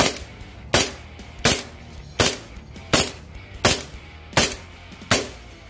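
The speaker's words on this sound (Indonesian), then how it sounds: "Kita menggunakan tembakan tanpa target." Eight sharp snapping shots from an airgun revolver fired one after another at an even pace, each a crisp pop with a quick decay, no voices.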